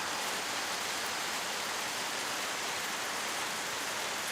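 Steady rainy-season downpour in the rainforest around Arenal volcano, Costa Rica, a dense unbroken hiss of rain on foliage, close and even, with no voices.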